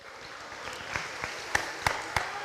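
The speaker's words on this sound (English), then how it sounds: "Please give them a round of applause." Scattered applause from a modest crowd in a high school gymnasium before a volleyball match, fairly faint with a handful of sharper individual claps standing out near the end.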